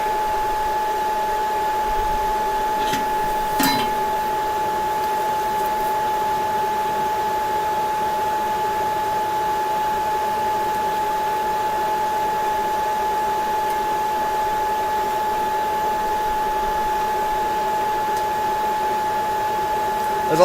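A working forge roars steadily and continuously throughout, with a constant high whine riding over the broad rushing flame noise and a brief knock or two near the start.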